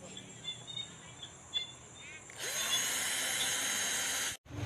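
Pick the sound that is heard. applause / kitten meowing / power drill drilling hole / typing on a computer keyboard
power drill drilling hole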